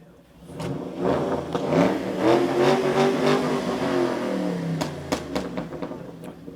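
A 2014 Shelby GT500 engine revs up loudly and close, holding a rising, sustained roar before settling, with sharp crackling pops from the exhaust on the overrun near the end.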